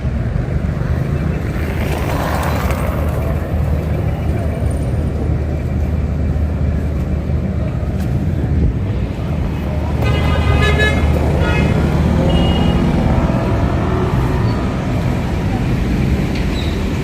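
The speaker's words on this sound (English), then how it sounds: "traffic in Jerusalem is also one of a kind" Busy city street traffic in Jerusalem rumbles steadily with engines and passing cars, while car horns toot repeatedly, one long honk standing out midway, and people talk in the background.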